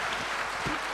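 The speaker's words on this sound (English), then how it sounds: "Big round of applause for Sifu Sham." An audience at a seminar claps in a brief, dense burst of applause that sounds fairly close and full.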